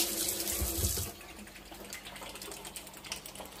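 Tap water runs into a sink while a leaf for Nigerian fried stew is rinsed, a splashy gush at first that settles into a softer, quieter trickle with light patters.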